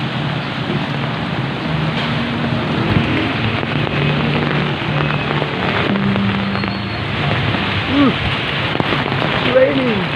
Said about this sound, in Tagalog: It's raining. The weather is bad.